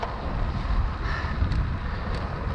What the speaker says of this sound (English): Now the wind's behind me.